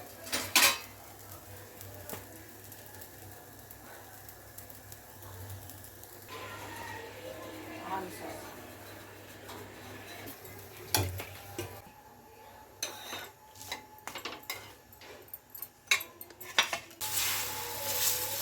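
Plates and utensils clatter in a home kitchen while dosa is served for an evening meal. Scattered metallic clinks and scrapes grow busier toward the end, over a faint steady sizzle.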